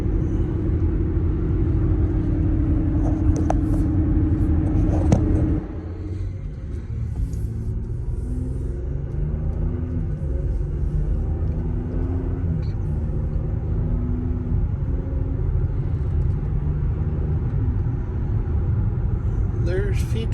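Steady tire road noise from Cooper Endurance Plus tires on a car cruising at about 55 mph, a continuous low rumble and drone that shifts in tone partway through, heard alone with no talking.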